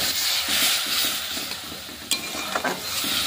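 Spiced potato and onion being stirred and fried in a pan with a little water, a steady sizzle under repeated scraping strokes of a spoon, with a few sharper clinks near the end.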